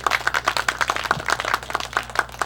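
Audience at an outdoor youth concert in Suncheon, applause for a speaker as a brisk, dense stream of many clapping hands with a loud, rapid, uneven rhythm and no voices over it.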